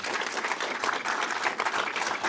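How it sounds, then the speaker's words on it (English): Audience applause fills a cinema venue at a civic State of the Cities event, a steady, dense wash of clapping from a sizable crowd that holds at even loudness without talk. "Let's give them a big round of applause."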